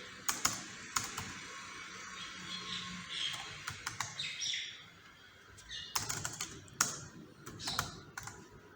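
Quiet typing on a computer keyboard: sharp, irregular clicks come in short bursts separated by brief pauses, with no speech.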